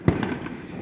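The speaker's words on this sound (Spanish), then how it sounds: "esto que escuché, este sonido, estos como cohetes, son más bombas lacrimógenas que están arrojando" A tear gas canister is fired during a clash at the Mactumactzá rural teachers' school in Chiapas, Mexico, heard as one sharp distant pop with a brief rumbling echo afterward.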